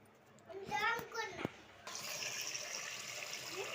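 Water pours steadily into a container of rice, urad dal and fenugreek seeds to soak them for dosa batter. A continuous rushing flow begins after a short stretch of talking and keeps going to the end.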